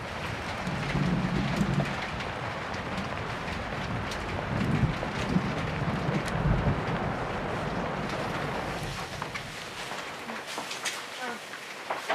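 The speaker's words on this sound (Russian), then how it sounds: "дождь у нас пошел" Rain starting to fall outdoors in Siberia, a dense, steady hiss of drops with some rumbling wind noise throughout, thinning out toward the end.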